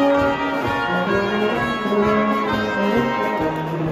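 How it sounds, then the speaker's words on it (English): Live oompah brass band music in a Munich beer hall, loud and steady, with a bouncing bass pulse and layered horn lines carrying through the room. "there's live brass music from oompa bands that sound like this"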